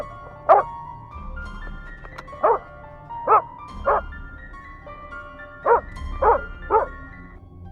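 A dog barks in short, separate bursts at a brown bear, some yips spaced apart and others in quick pairs, fairly close and loud over quiet outdoor background.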